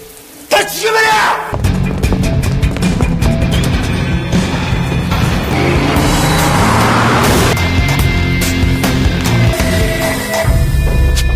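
A film car chase through Budapest streets: roaring engines, rushing traffic and crashing impacts, loud and dense throughout after a brief quieter start.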